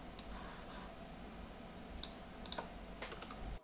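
Fingers typing an image description on a computer keyboard, producing a steady patter of soft clicks with a few louder, sharper key strikes near the end and no voices.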